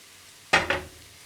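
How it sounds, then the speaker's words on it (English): Food hits hot olive oil in a pan with two quick bursts of sizzling hiss, close and fairly loud, then fades back to quiet kitchen background. "it's sizzling away"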